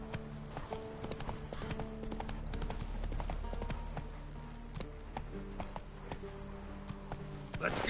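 Rhythmic hoofbeats of Roach, the horse in The Witcher 3, clip-clop at a quick gallop throughout, fairly close, with the game's music playing beneath and a brief voice over the pounding.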